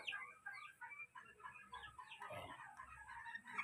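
Several chickens cluck continuously nearby while being bathed, with overlapping calls and a low rumble underneath.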